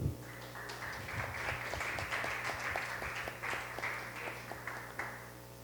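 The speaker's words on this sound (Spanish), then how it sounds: "Démosle un aplauso al Señor" A congregation at a Friday church service applauds for God, with fairly quiet clapping that holds steady over a low hum before easing off.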